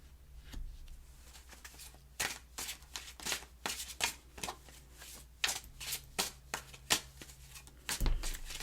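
Tarot cards being shuffled and drawn, a run of close, crisp riffling bursts in an uneven rhythm, each a short papery flutter, with soft handling in between and no talk.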